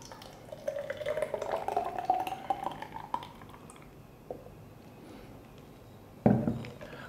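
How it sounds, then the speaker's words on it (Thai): Fruit and vegetable juice is poured into the vacuum bottle of an Airfree R9 smoothie blender, a soft, gurgling trickle for a few seconds, followed by a quiet pause and a brief knock of the bottle. "แล้วก็เทน้ำผักผลไม้ลงไปครับ"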